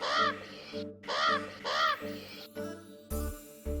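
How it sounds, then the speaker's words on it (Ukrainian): A common raven calls close by in a series of harsh, throaty croaks, several short grouped calls in quick succession, clear and alone. "ворона та ворон по різному каркають, а ворону характерний крик кру-кру, наприклад, ось так."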